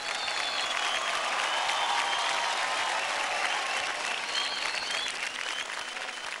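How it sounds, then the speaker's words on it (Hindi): A studio audience claps loudly and continuously for a child dancer after a televised dance competition performance, a dense, sustained wall of applause with no talking. "जोरदार ताली हो जाए सदविन के लिए।"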